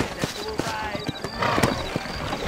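Horse hooves clip-clop at a steady trot in the video game Red Dead Redemption, close and fairly loud over rough outdoor ambience, with a voice speaking over the hoofbeats.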